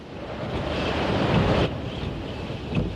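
Rough, stormy sea waves crash and roar under strong, buffeting wind, with the sea buried under foam; a dense, continuous wash of noise with a surge midway.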